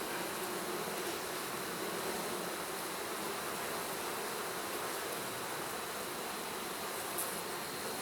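Honeybees droning steadily at an opened hive as it is set for winter, a continuous even buzz of many insects close by with no voices.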